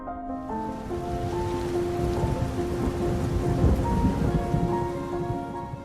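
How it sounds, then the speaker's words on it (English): Steady heavy rain roars throughout with a deep rumble of thunder rolling underneath, loud and continuous, with a faint tonal hum layered in. "listening to the pelting rain, heavy wind, thunder, lightning"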